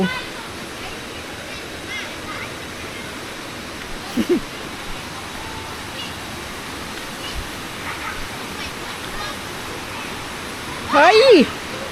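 Steady rushing water of a waterfall at Yong Waterfall National Park fills the scene as a constant broadband roar, with brief distant voices and a short high-pitched call near the end.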